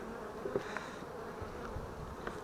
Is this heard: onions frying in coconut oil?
no